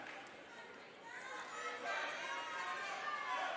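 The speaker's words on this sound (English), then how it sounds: "Got the crowd going too." Spectators at a women's wrestling event roar and chatter, a broad crowd noise that builds louder partway through, heard from a distance beneath a commentator's voice.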